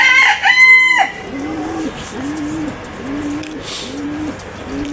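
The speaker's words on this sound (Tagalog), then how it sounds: "Ganitong oras kasi napakaraming rumurundang kalapati." A rooster crows briefly, then pigeons coo in a steady repeating series of soft low calls nearby.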